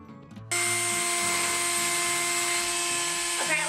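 A power drill bores into a plastic compost bin, its steady whine beginning abruptly after half a second and running loud and continuous to the end, with people talking quietly underneath.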